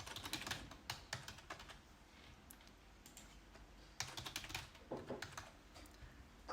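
Password being typed on a computer keyboard during a server software setup, with quick clusters of light, close key clicks in bursts and short pauses between them.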